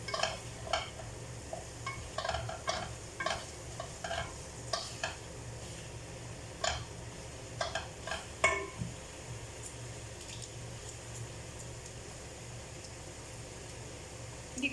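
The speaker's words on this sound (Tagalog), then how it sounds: "Haluin lang po siya." Chicken with pineapple juice is stirred in a pan, a quiet sizzle under irregular bursts of scraping and clinking utensil strokes that settle into steady frying toward the end.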